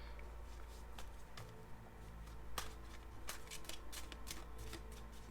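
Quiet close-up tarot card shuffling, soft sliding and flicking of cards with a few sharper snaps, over a low steady hum.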